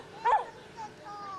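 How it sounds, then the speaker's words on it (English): Dog in a home at night giving a single short yelping bark, fairly close but not loud, followed by a softer whimpering trace against quiet room tone. "Dallas, quit barking."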